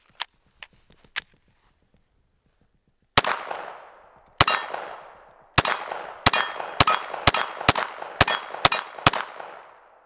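Glock 44 .22 pistol firing Winchester rounds from a magazine: a few sparse sharp shots, a pause, then a quick string of about ten cracking shots with ringing decay, moderately close.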